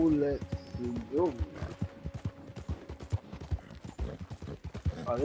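A horse gallops in Red Dead Redemption 2, its hooves beating a steady clip-clop rhythm at middle distance while a person talks over it and a whinny cuts in.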